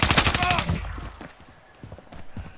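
Rapid automatic gunfire in Call of Duty Warzone, a dense burst of loud shots at the start that fades into scattered quieter pops and ambient game noise.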